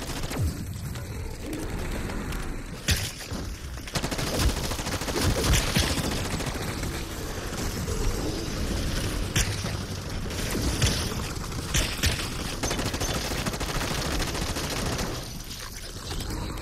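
Shotgun blasts in Call of Duty Black Ops 6 zombies at Liberty Falls: repeated loud, dense gunfire and explosive game effects fill the stretch, with brief quiet gaps and faint talk.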